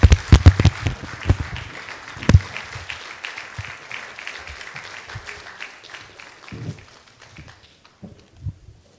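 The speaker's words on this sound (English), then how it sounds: "I think we owe him another round of applause." Audience clapping after a keynote address at an investment forum, a burst of applause loud at first, then thinning into scattered claps that fade over several seconds.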